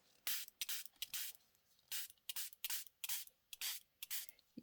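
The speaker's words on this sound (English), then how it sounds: "Try spraying the actual tag you're working on, Belle." Quick bursts of a spray bottle misting water onto a paper tag, about a dozen hissing squirts in an uneven rhythm, close and fairly loud.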